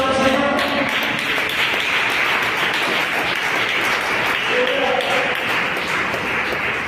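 A church congregation applauding during a Sunday school service, a dense sustained wash of clapping throughout, with a voice briefly heard over it.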